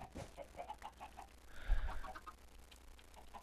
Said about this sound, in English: There sounds like there's a lot of chickens in here.